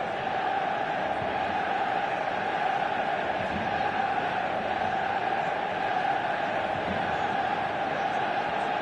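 Stadium crowd in the eFootball video game, a steady, dense roar of a large audience holding constant at a distance with no distinct voices.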